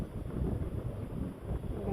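Wind blows across open farm fields near banana plantings, a steady rough rumble buffeting the microphone for the whole short stretch.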